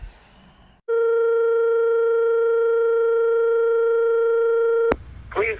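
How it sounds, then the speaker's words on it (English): A single steady electronic telephone tone holds flat and loud for about four seconds, then cuts off abruptly with a click before faint voices follow. "Let me call Bonnie, see if I can solve this problem."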